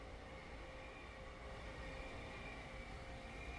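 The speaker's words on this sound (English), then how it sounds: "Train." A passing train rumbles steadily with low-frequency wheel-on-rail noise and a faint high tonal whine, continuous and moderately distant, with no talking.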